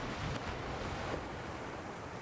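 Ocean waves in a horror video game wash in a continuous soft roar of surf mixed with wind, faint and steady throughout with no talk.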